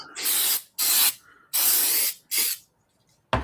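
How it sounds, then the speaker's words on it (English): An aerosol spray can hisses onto a craft plaque in four loud, close bursts of varying length separated by short pauses, with a brief final burst at the end and no talk. "spray it so it's already Locked in place."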